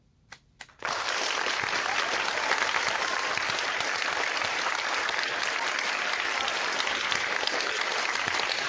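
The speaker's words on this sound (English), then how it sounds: "join me in giving a warm round of applause to Pro Football Hall of Famer Mr. Dermontti Dawson." Warm applause from an audience welcoming a Pro Football Hall of Famer, starting after a couple of isolated claps and then swelling into dense, steady clapping that continues loudly to the end.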